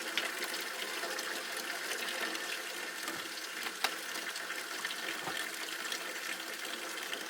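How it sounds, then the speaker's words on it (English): Hot water runs steadily from a tap into a bowl for washing raw wool fleece, a continuous close hiss and splash at even loudness with one small knock partway through. "you want to fill up your bowl and add the wool to it after, because if the water's running into there"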